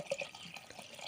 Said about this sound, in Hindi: अभी पानी डालने के बड़ी।